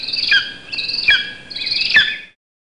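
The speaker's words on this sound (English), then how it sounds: "Eagle." An eagle gives three shrill, piercing calls at an even pace, each cry sharp and clear with nothing behind it.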